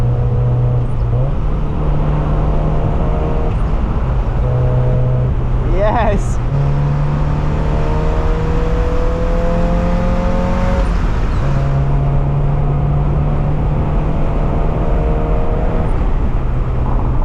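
A Mazda Miata engine drones loudly and steadily while driving, pitch climbing through gears with brief shift dips and a sweep of passing noise midway; a short spoken word occurs.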